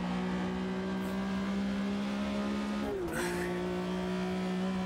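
A Porsche RSR race car engine in the video game Automobilista 2 holds a steady, droning tone, with a brief pitch dip and squeal-like sweep around the third second, then the drone resumes.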